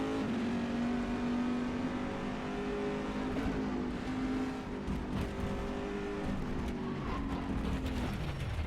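GTE race car engine in rFactor 2 racing at Magny Cours, a loud sustained engine drone with shifting pitch as the car accelerates and brakes into corners, steady throughout with brief gear-change dips.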